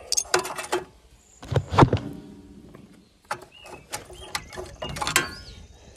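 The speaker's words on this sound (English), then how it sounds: "The throttle control, and the throttle control is free." Throttle control being worked loose from a Wisconsin engine during disassembly, a run of close metallic clicks, clanks and ratcheting knocks in irregular bursts separated by short pauses.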